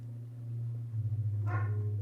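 A dog gives one short bark partway through over a low, steady hum in an indoor room, with no talking.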